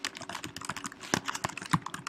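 Quick, uneven clicks of keys being typed on a computer keyboard, close and crisp, with a brief burst of keystrokes and no talking.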